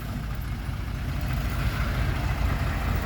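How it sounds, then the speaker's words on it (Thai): Tractor engine runs steadily close by with a low rumbling idle and slight swells in power, loud and continuous with no talk over it. "เอาไปเบิ้งรถไถ"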